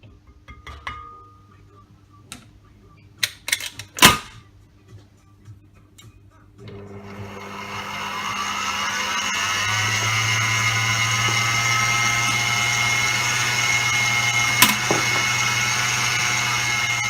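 An electric mixer whirs steadily through cupcake batter, starting after a few scattered kitchen clicks and knocks, then running as a continuous loud motor hum with a high whine.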